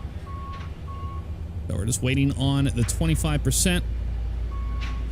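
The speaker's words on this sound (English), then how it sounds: "that beeping noise to stop, which is basically like a reversing sound" Steady high electronic reversing beeps from a ground vehicle in X-Plane 11 repeat at a distance while someone talks over a low aircraft engine rumble.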